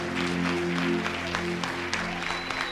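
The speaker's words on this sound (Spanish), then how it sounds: "Dar un aplauso fuerte a Jesús." A church congregation applauds in a steady, moderate burst of clapping while sustained organ or keyboard chords hold underneath.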